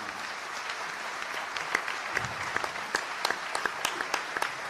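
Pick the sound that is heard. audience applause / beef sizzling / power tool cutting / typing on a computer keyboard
audience applause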